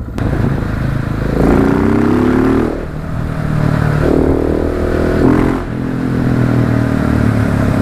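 Car accelerating hard through town, its engine revving up in several surging pulls separated by brief gear-change dips, loud and close from inside the vehicle, with no talking.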